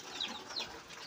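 Backyard chickens of pure breeds clucking faintly in a few short calls, quiet and alone with no talk.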